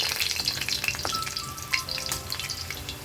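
Potatoes frying in hot oil for a chicken dish, a dense continuous crackling sizzle with small popping spatters and a faint brief scrape, close and steady throughout with no talk.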